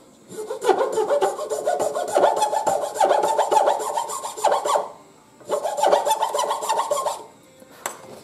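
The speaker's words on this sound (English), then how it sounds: "this end is too sharp to drill a hole in, so I just take a rasp and file it off." A rasp filing down the sharp end of a handmade wooden fishing lure, close and loud, in two bursts of quick rhythmic back-and-forth strokes separated by a short pause, ending with a single faint tap.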